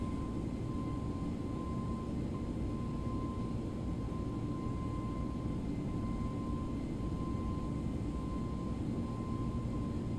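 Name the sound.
ToLiss A321 NEO jet taking off in X-Plane 11 video game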